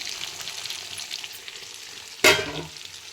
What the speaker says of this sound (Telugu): మనం ముందుగా ఫ్రై చేసుకున్న పీసెస్ ఇందులో వేసుకోవాలి